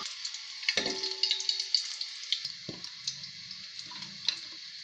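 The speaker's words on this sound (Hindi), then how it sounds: "अब आलू हमारा फ्राई हो गए हैं, इसे निकालते हैं बर्तन में।" Potatoes fry in hot oil in a pan, with a soft steady sizzle and quick crackling ticks, a few louder pops and the clink of a utensil against the pan, quiet and close.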